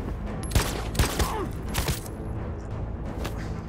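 Gunfire in the video game Detroit: Become Human: a quick volley of about five sharp, loud shots in two bursts, each with a booming low thump, then a lingering rumble.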